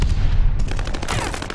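Gunfire in a video game crackles in a rapid run of loud shots close by, a dense rattling stream that continues without pause.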